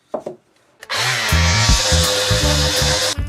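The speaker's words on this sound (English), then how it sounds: "Right, sand this one." Sandpaper rubbing back and forth on a wooden duck's boot, a close, steady scratchy grinding in quick repeated strokes after a few soft knocks at the start.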